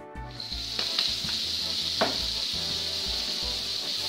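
Onions sizzling in a pan over high heat for meatballs, a steady loud hiss with a few sharp crackles and pops and some low clatter beneath.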